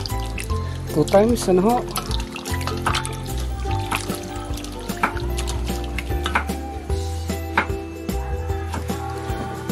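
Raw chicken feet, a kilo of them, are washed and rinsed under running water, with a continuous splash and trickle and occasional clatter throughout while a person talks over it.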